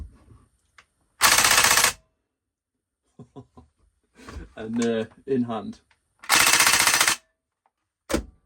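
Two loud bursts of rapid automatic fire from a VFC gas blowback airsoft M249 with a recoil mod, fired on its bipod, each about a second long, with clicks and someone talking between them.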